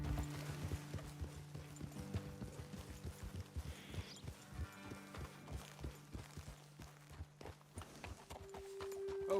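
Horse hooves clip-clop steadily in the Red Dead Redemption 2 video game, a fast rhythmic trot of several horses ridden together, close and prominent over low in-game music, with a brief whinny near the middle.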